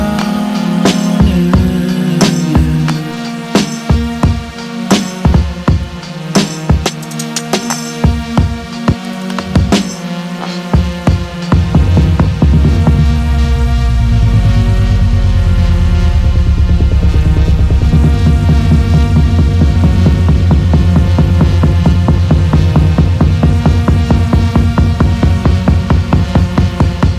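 Teletone Audio Soulfi and Electro drum plugin demo: loud programmed beats with punchy hits drive a dense electronic track, then shift into a sustained, throbbing synth-heavy section, with no talking.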